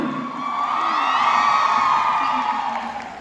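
A crowd at a makeup masterclass stage event cheers and whoops loudly, a sustained swell of shouts and yells that rises then tapers off.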